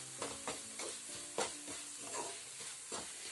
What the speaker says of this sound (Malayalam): നന്നായി ഒന്ന് വഴറ്റുക.